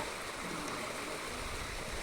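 Water splashes and rushes steadily while a cow is washed for the Mattu Pongal celebration, a continuous loud wash of noise with no break.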